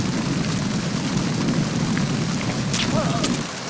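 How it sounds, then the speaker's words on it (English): Steady heavy rainfall in the game Metal Gear Solid 2: Sons of Liberty hisses continuously, dense and close, with a faint low rumble underneath. "looking at the water effects and rain effects"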